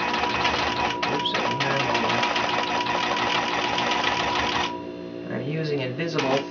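A longarm quilting machine running steadily along a quilt seam in a studio, loud continuous mechanical whirring and rapid stitching that eases off near the end, with a person talking over it.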